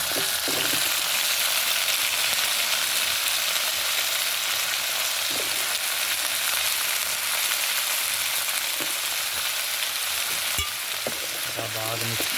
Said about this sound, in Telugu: ఇప్పుడు కట్ చేసిన ములక్కాడలు వేసేసుకుందాం